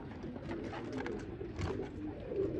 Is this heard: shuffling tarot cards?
no